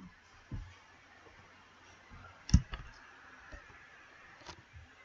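A computer mouse clicks in a quiet room: one crisp, close click stands out, with a few fainter soft clicks scattered around it.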